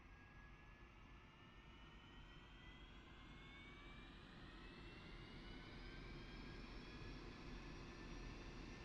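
Aircraft jet engine spooling up during a start sequence in the DCS World flight simulator, a steady faint roar with a whine climbing slowly in pitch throughout, no talking.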